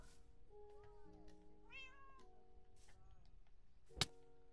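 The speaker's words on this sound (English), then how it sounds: "Who the hell is punching my cat?" A cat meows in the Minecraft video game, a few short tonal calls rising and falling at moderate level, followed by a sharp hit near the end, with no talk over it.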